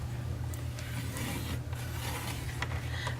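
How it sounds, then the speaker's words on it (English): A scoring tool pressed along paper for an Easter treat box, making soft, close scraping and rubbing strokes over a steady low hum, with a few light taps between them. "So you score 1 inch, and then you're going to turn it and score 1 inch."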